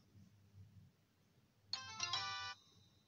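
A bright electronic phone ring in the video game Papa's Donuteria To Go plays once, clear and fairly loud, after a quiet stretch of faint background murmur.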